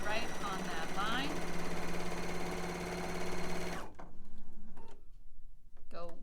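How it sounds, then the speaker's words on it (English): A home sewing machine stitches a paper-pieced seam with a steady fast mechanical whir and rapid ticking for several seconds, then stops abruptly, leaving near silence with a few small clicks and a voice briefly speaking. "I'm going to go back to my machine and I'm going to stitch right on that line"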